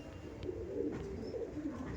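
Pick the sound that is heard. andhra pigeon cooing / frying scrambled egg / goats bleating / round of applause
andhra pigeon cooing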